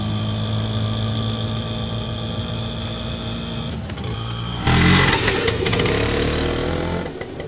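A car engine hums steadily while driving in a movie scene, with a rougher, louder rush of road noise and clatter taking over in the last few seconds.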